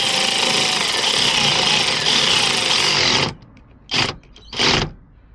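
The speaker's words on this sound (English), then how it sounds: "We'll just tighten up these bolts now." Bolts on a fire extinguisher bracket fixed to a seat railing in a Ford Fiesta MK6 XR4/ST150 being tightened, a loud continuous power-tool whir that cuts off abruptly, followed by two short separate bursts.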